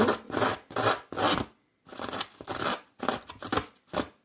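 Scissors snip and rasp along the edge of paper, fraying it for a handmade card, in short, repeated bursts, a close, scratchy cutting sound with brief pauses between strokes.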